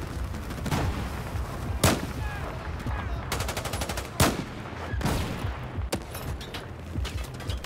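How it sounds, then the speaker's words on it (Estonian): Mortar bombardment and gunfire in the video game Battlefield 4 during an escape from a ship: sharp, loud blasts every second or so over bursts of rapid machine-gun fire and a steady battle din. "Mingi mortiiridega pommitatakse meid sealt."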